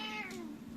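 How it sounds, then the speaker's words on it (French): A domestic cat grumbling and meowing indoors: a single faint, drawn-out complaining meow that trails off into a low murmur, quiet and close. "Il y a le chat qui râle"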